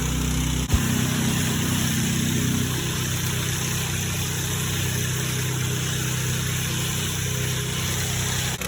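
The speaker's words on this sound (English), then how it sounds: "It's very loud back here, sorry, but I'm right behind the truck." A truck's loud, steady engine rumbles close by, heard from right behind the truck, a low droning idle that holds constant throughout with no voices.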